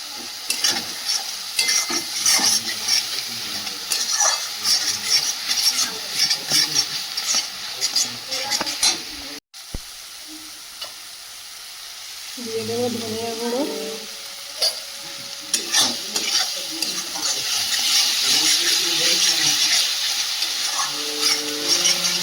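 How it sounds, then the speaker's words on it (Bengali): Spices with Kashmiri chili, turmeric and cumin powder are stir-fried until the oil separates, giving a steady loud sizzle broken by repeated scraping strokes, a sharp knock and a short quiet pause midway. "বেশ ভালোভাবে কষিয়ে নিয়েছি মশলা থেকে তেল ঝরে দিয়েছে"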